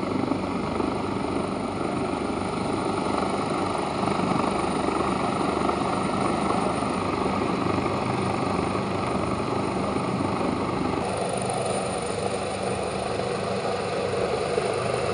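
Army helicopter hovering during a military rescue demonstration at Tundikhel, Kathmandu, as casualties are hoisted aboard; a loud, steady rotor and turbine drone holds continuously with no voices.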